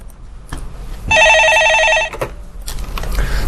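A telephone rings once with an incoming call, a loud electronic trill lasting about a second, set against background room noise in a stock consultation broadcast.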